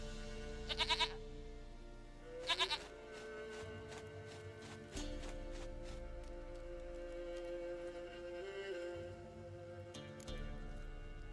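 Goat in The Witcher 3, giving two short, nasal bleats early on. Softer clopping and ambient game sounds continue underneath through the rest, at a modest level.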